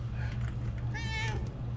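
A cat meows in the video game Murdered: Soul Suspect, one drawn-out rising meow heard faintly over a steady low hum of game ambience.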